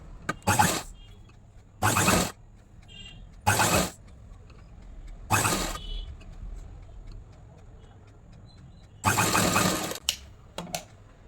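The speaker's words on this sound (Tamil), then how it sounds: "அதே மாதிரி இந்த கைக்கும் தச்சிருங்க" A sewing machine hems a kurti sleeve in several loud mechanical bursts of rapid stitching, one to two seconds each, separated by quiet pauses.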